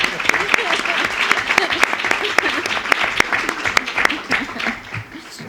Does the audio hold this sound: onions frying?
no